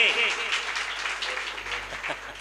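A crowd claps steadily for a couple of seconds at a Diwali morning event, a dense patter of hands with a faint voice near the start.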